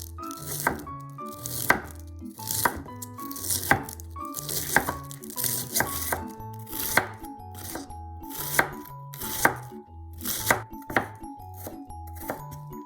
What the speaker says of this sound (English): Chop the cabbage into thin pieces.